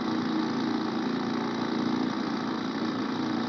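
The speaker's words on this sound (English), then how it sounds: "another formation of drilling rigs clatters away" A constant mechanical drone with dense rattling clatter, steady and loud, from a row of rock drilling rigs boring blast holes into rock.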